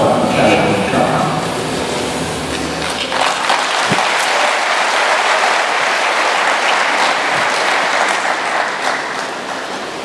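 Loud, sustained applause for the Munhumutapa Challenge Cup trophies at the tournament launch, a dense crowd of clapping that fills the whole span without letting up.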